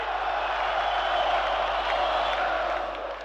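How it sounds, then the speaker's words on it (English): A large rally crowd waiting for Milosevic in Kosovo, a dense, steady roar of many voices with scattered shouts and whoops, loud and continuous throughout. "The crowd had waited all day for Milosevic to tell them that Kosovo would be theirs again."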